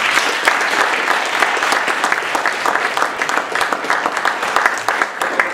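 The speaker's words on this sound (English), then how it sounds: "So give a round of applause for Kenny and Robert." An audience at a leadership talk breaks into loud, full applause that carries on continuously with slight surges, close and vigorous, with no talking over it.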